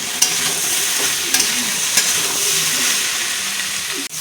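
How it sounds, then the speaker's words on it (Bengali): A spice paste and vegetables sauté hard in a hot pan, a loud steady sizzle with occasional stirring scrapes and clacks, close and continuous without talk. "খুব সুন্দর করে মশলাটা এখন কষাতে হবে"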